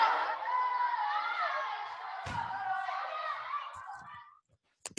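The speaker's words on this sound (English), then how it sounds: "That's right, a noisy classroom of kids." Many children's voices in a classroom chatter and shout at once in a lively indoor din that fades near the end, followed by a couple of sharp knocks.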